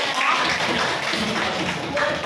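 Classroom applause for a classmate's presentation, a short steady patter of many hands clapping together, fairly loud and close throughout.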